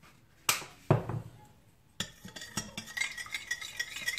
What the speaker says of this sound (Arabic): نخلطهم شويه مع بعض